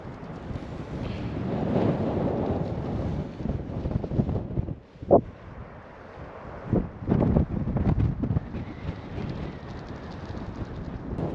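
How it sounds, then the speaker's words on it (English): Wind blows under a winter tent at a snowy wild camp, a steady low buffeting rush with gusts and a few sharp flaps or knocks against the fabric. "You can see the wind going under."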